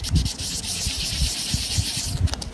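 Wet sanding a Western Electric Model 500 desk phone part with water, a steady close scrubbing rub of abrasive paper with rhythmic low strokes, continuous and alone.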